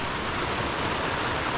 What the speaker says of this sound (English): Now it's kind of light rain, but it's so loud.